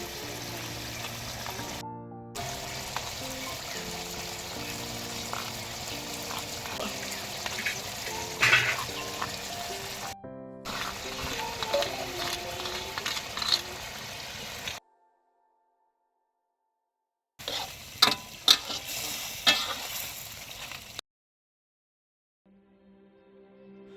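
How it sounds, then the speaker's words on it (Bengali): Garlic mutton masala sizzles and is stirred in a golden pan, a steady frying hiss with scraping stirs, broken by a few abrupt gaps of silence, heard close with no talk. "এবার মশলাটা সামান্য একটু জলে গুলে দিয়ে দিচ্ছি।"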